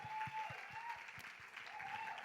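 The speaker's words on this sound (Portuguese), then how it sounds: "Uma salva de palmas para a Isa." Faint applause for Isa, a São Paulo state show-jumping champion, during a church service: soft, steady clapping with a light rhythmic thump underneath and a faint tonal hum, heard at a distance and with no talk over it.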